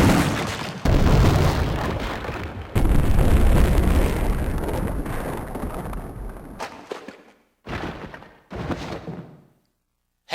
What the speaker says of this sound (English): I'm gonna do my awesome tradition of taking the Magnum and exploding a zombie's head with it.